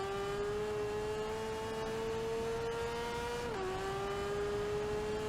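Sidecar engine in the TT Isle of Man racing game screams at high, steady revs, its pitch easing briefly as a gear shift drops it before climbing again, loud and continuous with no talk.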